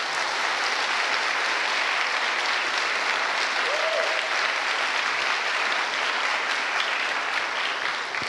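Sustained audience applause fills a church service, a dense, steady wash of clapping that holds at even loudness from start to finish with no voices on top.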